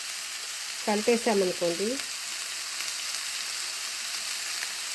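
Onions frying in a pan for a radish curry give a steady, close, hissing sizzle that carries on throughout, with a short burst of speech over it near the start.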